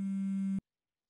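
A steady electronic phone tone sounds while a call to a friend is placed, a single flat buzzing note holding for just over half a second before cutting off abruptly into silence.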